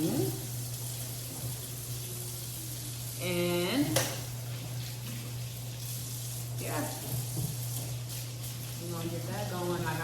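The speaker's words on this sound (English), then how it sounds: "I have the potatoes boiling." Potatoes boiling in a pot on a home kitchen stove give a steady bubbling, sizzling wash under a constant hum, with someone talking briefly and other kitchen clatter nearby.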